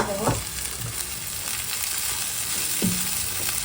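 Chopped onion frying in a pan for poha (flattened rice): a steady sizzle fills the clip, with a couple of brief scraping stirs near the start and end.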